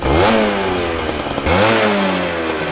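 A 125cc racing motorcycle engine warming up in a pit lane, loud and close, rasping as it revs up and drops back twice in quick succession, with no talk.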